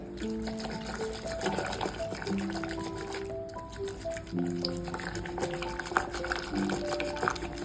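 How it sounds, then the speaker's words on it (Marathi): A wooden churning stick stirs chicken curry with spinach and chukha in a pot, making soft wet sloshing and bubbly squelching sounds with light knocks against the vessel, fairly quiet and close. "तर आता मी ही भाजी एकजीव करून घेते रवीने लाकडाची रवी आहे माझ्याकडे"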